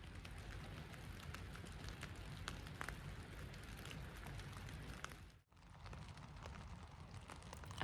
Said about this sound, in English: lying in a tent at night, listening to the rain outside